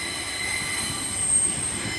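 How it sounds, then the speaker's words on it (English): A Great Western Railway unit, class 800, arriving at Swindon station on the service from Bristol Temple Meads to London Paddington. It gives a steady rolling rumble with high squealing from the wheels as it slows, loud and close, with no talk. "coming in now is the 10:42 Great Western Railway service to London Paddington"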